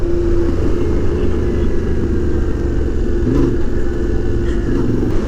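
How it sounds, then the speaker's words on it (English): A Yamaha Tenere 700 adventure motorcycle with stock exhaust rides off-road over muddy ruts in Death Valley, its engine giving a loud, steady rumbling drone close by with slight shifts in pitch and no speech. "I really like the way this motor sounds."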